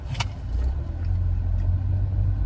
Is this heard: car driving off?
yes